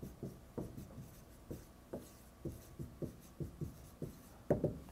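A pen or marker writes on a board during a real estate math lesson, making a string of quick, faint scratching strokes in an irregular rhythm with no talking.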